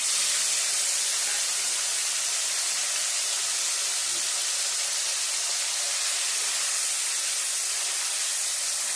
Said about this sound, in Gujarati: હવે આપણે એમાં ટમેટું વઘારવાનું